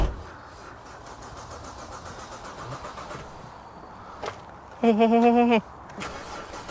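A written-off, non-running BMW 330i cranks on its battery. A short, wavering starter whine lasts under a second over low background noise, with a brief word spoken nearby.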